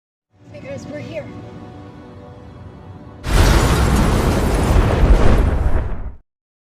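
A building blows up in a film scene: a sudden loud, sustained explosion roar erupts midway and rumbles for about three seconds before cutting off, preceded by quieter tense sounds.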